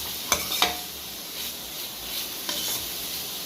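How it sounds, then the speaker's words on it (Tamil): Crushed garlic frying in a pan for beetroot stir-fry, with a soft steady sizzle and a few sharp scrapes and taps of a spoon being stirred, close and with no talking. "பூண்டை போட்டு நல்லா கிளறி விடுங்க."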